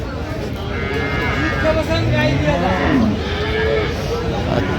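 A cow and calf low nearby, with several drawn-out moos rising and falling, heard over a noisy cattle market background where people are talking.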